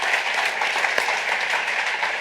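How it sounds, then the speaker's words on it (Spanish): Studio audience applause on a live talk show welcoming guests, a steady even wash of clapping that holds at moderate loudness throughout with no voices. "Grandísimo aplauso."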